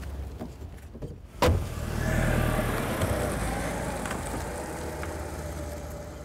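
A parked car is started and moved, with a sharp clunk followed by a low engine hum that swells and settles into a steady run, fairly faint and without talk.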